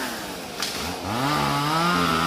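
A chainsaw cuts into a rubber tree in a plantation row, its engine rising in pitch as it bites into the wood, steady and fairly close, with no talking.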